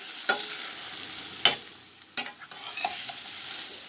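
Canned corned beef with sofrito browning in a pan, a soft steady sizzle broken by a few sharp spoon scrapes and stirring clacks, close and alone with no talk.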